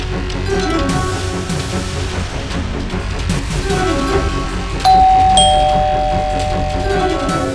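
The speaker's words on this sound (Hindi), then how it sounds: "डोरबेल बज रही है" A doorbell chimes, a clear electronic ding-dong ringing out over background music and ambient noise midway through.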